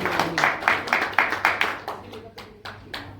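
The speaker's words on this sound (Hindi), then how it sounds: "इसलिए एक बार आशीष जी के लिए जोरदार तालियां हो जाए" Audience at a franchise opportunity expo in a hotel hall clapping in a strong, steady rhythm, distinct claps in unison that gradually fade, with voices faintly underneath.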